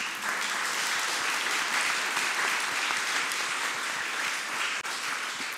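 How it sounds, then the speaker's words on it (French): Sustained applause from a conference round-table audience, steady and dense clapping filling the whole stretch without pause. "Ça mérite des applaudissements."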